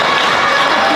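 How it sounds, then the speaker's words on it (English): A partisan wrestling crowd in Smith Falls, Ontario, roaring behind Vance Nevada during a chin lock at a Great North Wrestling match, a loud, dense wall of cheering and shouting voices throughout. "The crowd is heavily behind Vance."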